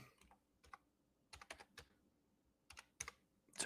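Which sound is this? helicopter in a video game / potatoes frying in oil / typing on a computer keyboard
typing on a computer keyboard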